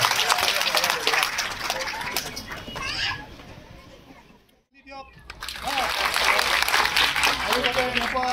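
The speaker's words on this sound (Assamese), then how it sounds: "এটি হাত চাপৰি হ'ব লাগে সকলোৰে কাৰণে" An audience applauds in a digital cinema hall in Mangaldoi, the clapping a loud, dense patter that fades briefly in the middle and then swells back, with people talking underneath.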